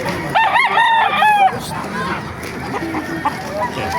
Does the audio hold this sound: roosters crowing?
yes